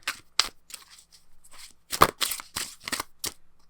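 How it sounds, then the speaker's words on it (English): A deck of tarot cards being shuffled by hand: a series of soft, close papery riffles and slaps in uneven bursts, fairly quiet, with no talking. "I want to get 2 more cards out of this deck now, even though I've already shuffled it"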